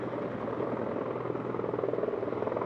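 V-22 Osprey tiltrotor and Marine attack aircraft idling before a simultaneous departure at an air demonstration, a loud, steady rotor and engine drone with a rhythmic throbbing, close and continuous throughout.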